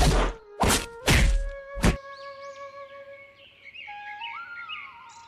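In a Hindi cartoon story, a woman beats her daughter: four sharp whacking thuds in quick succession, loud and close, followed by tonal cartoon effects and chirping bird-like sounds with no talking.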